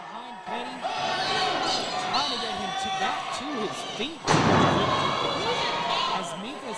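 A wrestler is slammed in the ring with a broad, loud thud midway through, while a commentator talks over steady crowd noise.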